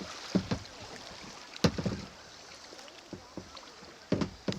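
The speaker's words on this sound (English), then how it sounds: "we're coming down here to the next rapid. We can hear it" Rushing water of an approaching rapid on Antietam Creek heard from a kayak, a steady wash with a few close splashes and paddle knocks, no talking.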